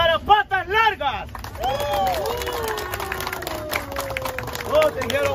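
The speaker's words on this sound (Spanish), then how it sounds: "Aplauso para patas largas." Audience clapping and cheering rise up after an announcer's call for applause, a busy burst of hands mixed with excited crowd voices and shouts, with a voice talking briefly at the start.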